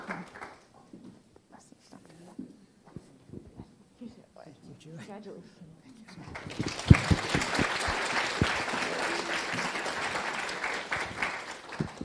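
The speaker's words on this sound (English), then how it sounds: "I'd like each of them to actually get applause so we can all share in this." Audience applause for award recipients at a cup awards event breaks out after quiet scattered sounds and speech, rising into sustained, fairly loud clapping that continues to the end.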